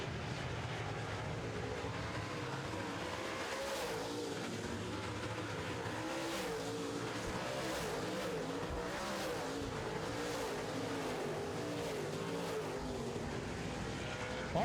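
A pack of late model stock cars races on a track at a 2015 feature event, one on a Black Diamond chassis, with a dense, continuous roar of many engines that stays loud and close throughout.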